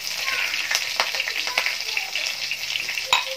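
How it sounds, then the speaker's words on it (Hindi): Asafoetida and green chilli sizzle steadily in hot oil in a kadhai, a continuous close frying hiss with scattered crackles and pops throughout. "हींग जैसे थोड़ी सी चटर जाए, पटर जाए, फिर उसके बाद डाल देंगे हरी मिर्च"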